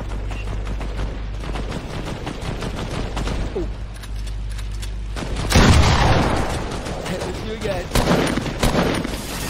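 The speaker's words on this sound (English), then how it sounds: "Good shots, people shooting at me." Rapid bursts of gunfire in the Fortnite video game, dense overlapping shots with loud booming blasts near the middle, continuing through the stretch.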